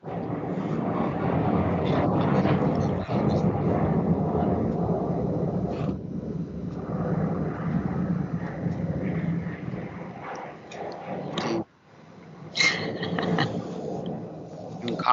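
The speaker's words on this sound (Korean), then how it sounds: "그 수원 지방이니까 비행기가 소리가 들렸습니다." An airplane flies over a lecture hall in the Suwon area, a low, steady broadband rumble that fills the room for most of the stretch, with faint voices beneath it.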